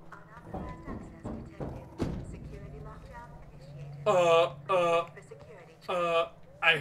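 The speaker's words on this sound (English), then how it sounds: "I hear stomping." Heavy stomping footsteps in the video game Alien: Isolation, a run of dull rhythmic thuds like hoofbeats under a tense ambient drone, with someone talking nervously over parts of it.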